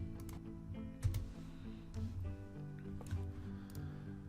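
Light clicking of keys on a computer keyboard as a question is typed, in irregular quiet bursts over a soft steady background hum.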